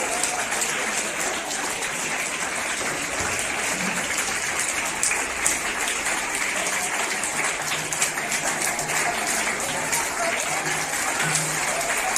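School audience applauding students at a Christmas celebration at St. Patrick's School in Amritsar, a long sustained round of many hands clapping at moderate volume, with faint murmurs underneath.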